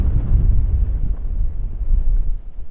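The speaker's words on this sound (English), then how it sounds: "It's quite windy." Strong wind buffets the microphone with heavy low rumbling gusts, continuous and loud for a few seconds, with no voices.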